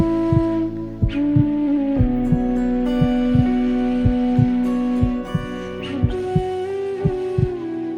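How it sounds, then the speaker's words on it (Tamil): Heartbeat sound effect in a TV drama scene: steady, regular low thumps repeating throughout, close and prominent over a sustained musical drone, with no talk. "என்னோட இதயம் துடிக்கிற சத்தம் உங்களுக்கு கேட்டுச்சா?"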